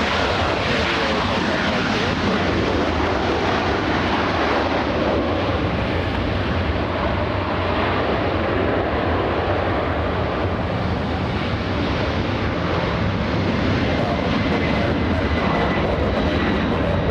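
A jet airliner at LAX airport roars steadily as it powers up and lifts off, a loud continuous engine rumble with wind buffeting, sustained throughout with no gaps.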